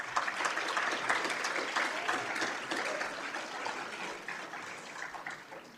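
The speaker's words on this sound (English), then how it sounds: "So students, let's give your teachers a round of applause." Audience at a career and technical education awards ceremony applauds teachers, with steady, fairly distant clapping that slowly fades.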